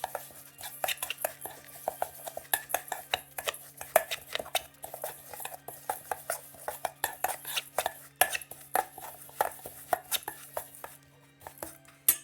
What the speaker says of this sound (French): Et donc je mélange.